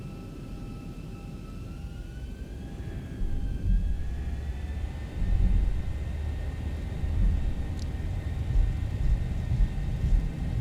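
A Zibo Boeing 737-800 rolls for takeoff on runway 8 right at Miami in the X-Plane 12 flight simulator, a steady low jet rumble with whining engine tones that climb and swell as thrust builds, close and continuous with no talk.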